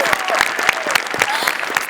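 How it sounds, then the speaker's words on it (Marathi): Studio audience clapping after a comedy skit on a Marathi comedy show, a dense loud patter of applause close by, with a voice speaking over it. "त्याच्या ॲटिट्यूडसाठी जोरदार टाळ्या"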